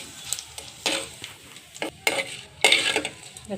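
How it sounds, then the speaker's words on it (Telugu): Tempering of urad dal, mustard seeds, cumin and dried red chillies in hot oil for a tamarind-leaf chutney: short bursts of sizzling and spoon stirring scrape against the pan, loud and close, with quiet gaps between. "పచ్చడికి తాలింపు వేసేద్దామండి ఈ మినపగుళ్ళు కొద్దిగా ఆవాలు కొద్దిగా జీలకర్ర కొద్దిగా ఎండుమిర్చి"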